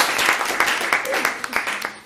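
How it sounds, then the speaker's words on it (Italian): Brief audience applause at an Italian spiritual centre gathering, scattered claps rising and falling over about two seconds with voices mixed in underneath. "allora un applauso a Mina."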